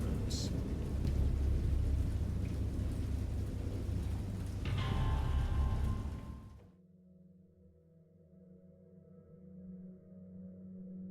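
Thunderstorm in the point-and-click horror game Dagon: heavy, dense rain with low rumbling thunder that cuts off abruptly, leaving a faint low ambient hum.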